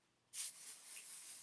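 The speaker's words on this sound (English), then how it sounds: "So I'm going to pixie spray this." Pixie Spray fixative is sprayed onto a sheet of paper for a card project. A sudden close hiss bursts out, then settles into a softer, continuous spray lasting about a second.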